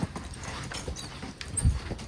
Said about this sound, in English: I'm gonna go walk Rango off,